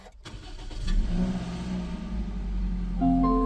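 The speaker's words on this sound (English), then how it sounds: "I always love this moment when you just service the car, doing your first start." A car engine cranks and catches, rising into a steady idle with a low hum and a faint tonal whine settling in.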